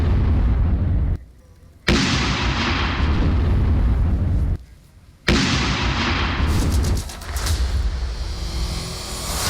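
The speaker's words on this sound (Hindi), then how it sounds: "जरा समझिए और इस धमाके की गूंज को सुनिए और समझिए कितना जबरदस्त" Loud, sustained roaring blasts with rumbling that rolls on, broken by brief gaps of near silence, like repeated explosions echoing nearby, in a war zone in Ukraine.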